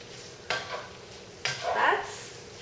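Meat for an asparagus and beef ramen bowl being stirred in a sizzling pan, with two distinct scraping strokes of the utensil over a steady low frying hiss.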